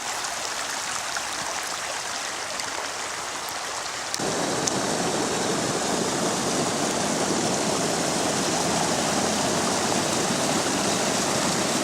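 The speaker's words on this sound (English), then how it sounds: "this is in fact the path that we're supposed to be walking along here, and it's a river" A stream rushes and splashes steadily over a walking path, a broad continuous flow that grows noticeably louder and fuller partway through, with no voices.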